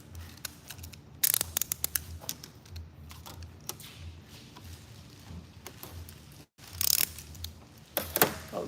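Scissors snip a long plastic spray bottle dip tube to length, with a few sharp, close clicks and cuts among light handling noises, no talk.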